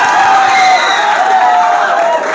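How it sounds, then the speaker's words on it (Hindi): Loud crowd noise at a quiz competition in Chhapra fills the clip, a dense wash of cheering and clapping from a large audience, with some shouting mixed in. "जोरदार तालियां"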